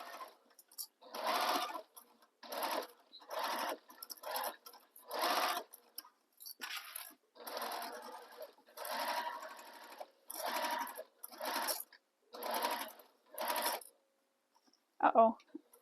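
Home sewing machine basting fabric panels of a sling bag together, running in about a dozen short loud bursts of rapid stitching separated by brief pauses, close and alone.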